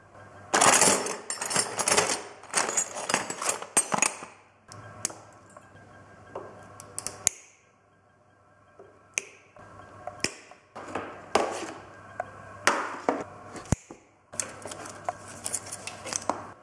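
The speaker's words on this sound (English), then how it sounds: "I've cut all the zip ties." Zip ties being snipped off the wiring loom of a Chinese quad bike, giving a run of sharp, close snapping clicks and rustles in bursts, with quieter pauses between cuts.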